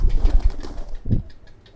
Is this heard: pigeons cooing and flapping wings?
yes